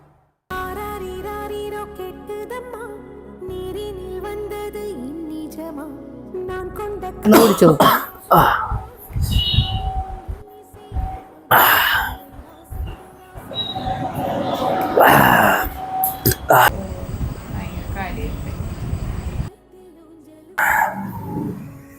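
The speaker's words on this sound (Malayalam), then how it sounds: "എന്തൊരു ചുമയാണ്" Harsh, loud coughing fits in a comic family skit burst out three or four times over about fifteen seconds, broken up by speech, with a quieter tonal passage before them.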